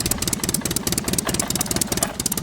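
A toy tractor's small motor whirs steadily as it drives away, a close, continuous buzzing hum with fluttering pulses running through the whole stretch.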